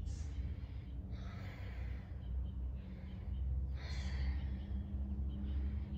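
Slow breaths in and out during a relaxation exercise for neck and shoulder tension, soft airy inhales and exhales in a steady rhythm, faint and close, about three or four cycles with no talking.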